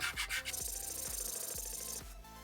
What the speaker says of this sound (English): there may be a couple of low spots on the surface that take more time to sand the paint